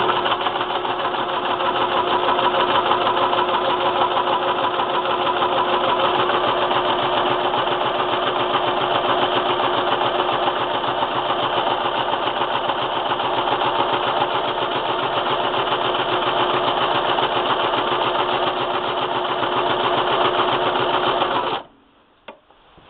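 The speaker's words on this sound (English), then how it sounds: "what I'm going to do now is a zigzag stitch around this blue circle" A sewing machine running a zigzag stitch around a blue circle on a spool knit rug, a steady loud buzzing whir for about twenty seconds that stops abruptly near the end.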